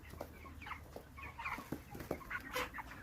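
Broiler chickens on a poultry farm cluck and murmur in an overlapping, continuous flock chorus, soft and steady with scattered sharper calls.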